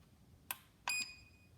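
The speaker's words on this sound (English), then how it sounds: "This beeped and flashed a light." Two short electronic chirps close together from a Chamberlain myQ garage door sensor during pairing, the second a brief steady tone, against a quiet room.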